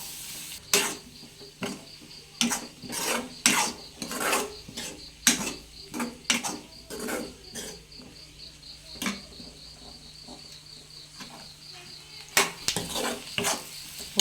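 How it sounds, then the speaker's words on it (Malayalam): Sliced onion sizzles and scrapes in a pan as it is sautéed for a quick egg roast, with a steady run of loud, close stirring rasps and clicks from a spoon against the pan, and no voices. "ഉള്ളി വാടുന്നത് വരെ നമുക്ക് നന്നായിട്ട് ഇളക്കിയെടുക്കണം."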